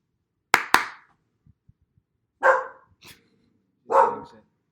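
A pet dog named Colby barks indoors: two sharp close barks, then a short quiet stretch with faint low growly sounds, then two longer, rougher barks spaced apart, loud and alone with no talk.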